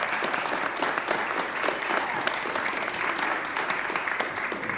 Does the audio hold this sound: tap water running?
no